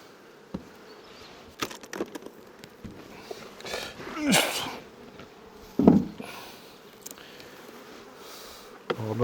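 Honeybees swarm around an opened hive with a low, steady buzz, broken by sharp knocks and wooden scrapes as frames are handled, with a few louder close passes.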